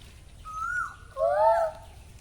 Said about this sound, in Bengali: কোকিল ডাকছে কত সুন্দর, দেখো বন্ধুরা।